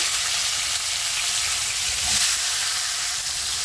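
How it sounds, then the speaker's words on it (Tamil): Cauliflower shallow-fries in oil in a pan for aloo gobi, giving a dense, steady sizzle that stays loud and even throughout with no voices. "இப்போ காலிஃப்ளவரும் நம்ம ஷாலோ ஃப்ரை பண்ணி எடுத்துக்குவோம் லைட்டாக"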